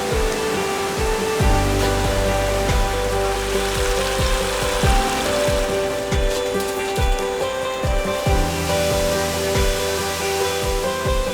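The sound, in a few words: waterfall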